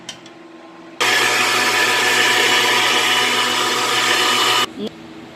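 A kitchen blender whirs loudly for about three and a half seconds while mixing carrot and beetroot juice with spices, starting abruptly and cutting off just as suddenly, with a quiet room before and after.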